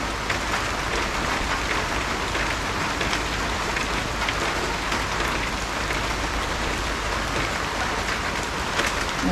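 Heavy rain pours down steadily, a dense unbroken hiss of drops striking a surface.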